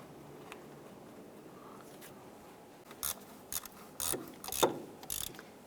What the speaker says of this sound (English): Going to install our bolt here for our heat shield.